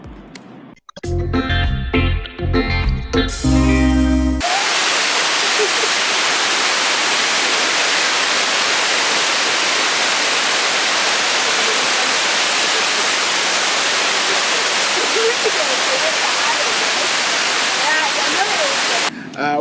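Water pours steadily at Turtle River Falls and Gardens, a loud, constant rushing roar that runs unbroken for most of the stretch after a short, choppy musical opening.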